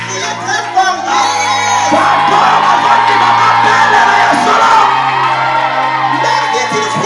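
A crowd at a church gathering shouts and cheers loudly and continuously, a dense wall of many voices with whoops and yells, with music droning underneath.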